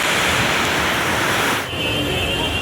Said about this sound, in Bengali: এত পরিমাণে বৃষ্টি শুরু হয়েছে।